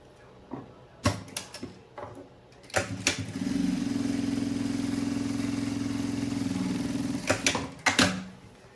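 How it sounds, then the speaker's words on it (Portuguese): A sewing machine stitches a straight seam in a steady whirring run of about four seconds. Sharp clicks and clunks of handling the fabric and the machine come before and after it, close by, and no one speaks. "E vou fazer uma costura"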